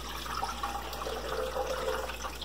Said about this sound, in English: So I'm just gonna pour this.